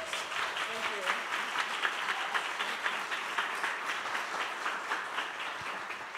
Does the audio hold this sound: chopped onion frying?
no